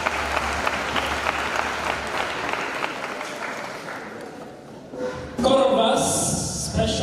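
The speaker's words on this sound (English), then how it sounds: "A round of applause for them." Audience applause at a drama festival award ceremony at Kasarani in Nairobi, a sustained crowd clapping that fades over several seconds before a louder burst near the end.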